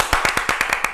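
Clapping in a Turkish studio talk show, a short run of about eight sharp, evenly spaced hand claps, close and clear with no talk over them.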